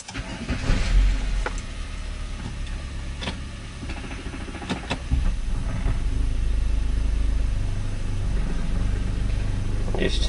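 A Honda Magna motorcycle engine rumbles nearby on its final run while being cycled through the gears to drain transmission oil, a low steady drone broken by a few clunks and brief louder surges.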